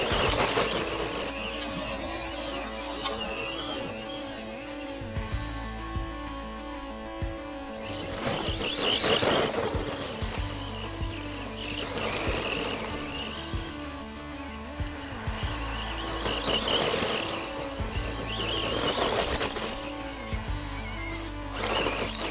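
Bonzai Intrepid 1/14 brushed 4WD RC pickup truck running over wood chips: a steady electric motor whine with crunching, scrabbling tyre noise that surges and eases, loud and continuous throughout.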